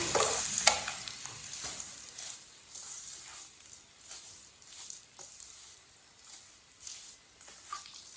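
Vermicelli roasting in a pan for dry sweet seviyan, a soft quiet sizzle under frequent light scraping and tapping stirs, close and without talk.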